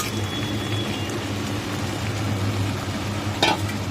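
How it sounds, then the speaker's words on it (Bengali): Fried crabs sizzle steadily in a pan with masala, a dense crackling hiss throughout, with a brief scrape of stirring near the end. "কাঁকড়াগুলো দিয়ে একবারে ভালো করে কষাবো"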